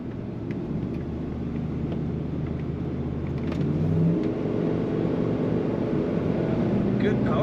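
A 1992 Ford F-150 XLT extended-cab pickup's engine rumbles steadily from inside the cab, building in pitch and volume as the truck accelerates, with a low drone throughout.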